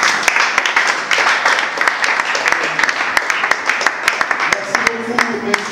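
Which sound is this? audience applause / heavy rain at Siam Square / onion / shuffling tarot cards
audience applause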